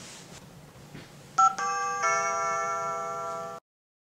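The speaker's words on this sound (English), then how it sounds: "select a zone, then change the chime" A 2GIG GC2 security panel plays a door chime: a short beep, then a sustained electronic multi-tone chime ringing steadily for about two seconds before stopping abruptly, close and clear.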